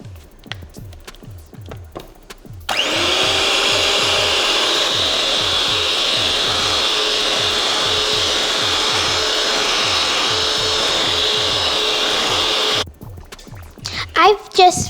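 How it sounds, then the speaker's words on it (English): Electric mixer beating vanilla cake batter in a home kitchen, a loud steady whirring motor drone that starts abruptly and runs for about ten seconds before cutting off, with talk before and after. "I've just finished mixing the batter."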